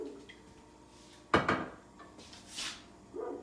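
Metal roasting pan set down and shifted on a kitchen stove, one sharp clank followed by a few lighter scrapes and knocks, close by in a quiet room.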